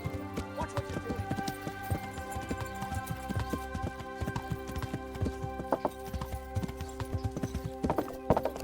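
Horse hooves galloping in the video game Kingdom Come: Deliverance, a steady, quick clip-clop rhythm on the ground throughout, moderately close, with faint talk in the background.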